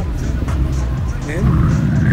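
A BMW M5 drives past on busy Oxford Street in London, its engine note rising and sweeping by at close range amid steady city traffic rumble, with people talking nearby.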